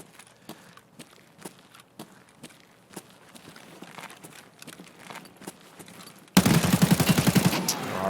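Automatic weapon gunfire in the shooter game Escape from Tarkov: a patter of quieter shots gives way to a sudden loud, sustained close-range burst near the end.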